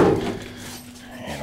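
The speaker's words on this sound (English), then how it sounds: "Let me close this door" A VW bus door being closed makes a short thud at the start that fades into quiet room tone, all of it close and with no talking.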